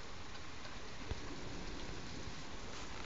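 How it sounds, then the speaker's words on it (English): Heavy rain roars steadily through a thunderstorm, a dense, unbroken wash of loud downpour close by with one brief thump partway through and no voices. "The rain's getting worse. Oh, the rain's getting worse. It's roaring."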